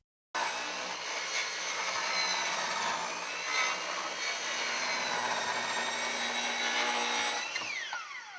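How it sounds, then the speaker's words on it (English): A hand saw cuts through BlueDuct duct pipe in a steady, close rasping run of strokes lasting several seconds, with no talking. "Now cut the pipe."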